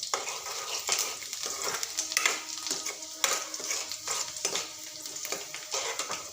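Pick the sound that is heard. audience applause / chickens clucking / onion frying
onion frying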